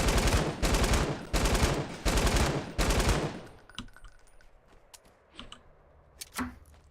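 Gunfire in Fortnite: five loud, rapid bursts fire in close succession, then the shooting drops away to a few sparse, fainter cracks in near-quiet.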